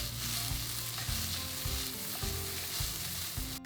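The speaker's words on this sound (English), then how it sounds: "Now add the peas and continue simmering for another 5 minutes." Beef and peas simmer in chicken stock and sauce for Cantonese beef rice, giving a steady close bubbling sizzle with faint stirring clinks throughout, and no voices.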